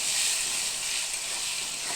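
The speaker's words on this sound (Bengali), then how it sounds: "ধীরে ধীরে ভাজা হবে আর তাহলে আলুটা একদম সুন্দর ভাজাটা হবে" Potatoes frying in a pan with salt and turmeric over low-medium heat give off a steady, even sizzling hiss that holds for the whole stretch, with no voices.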